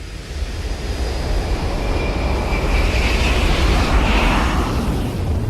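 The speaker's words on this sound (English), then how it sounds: "We can take you from a pin drop to the thunder of a jet engine." The thunderous roar of a jet engine in a cinema sound demonstration: a loud, dense, continuous broadband rumble that swells slightly toward the middle and holds steady without any voices.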